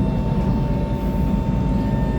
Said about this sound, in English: There goes another A train over there to Penrith on the T1 service.